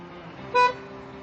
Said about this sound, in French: Le premier point, le fonctionnement du klaxon.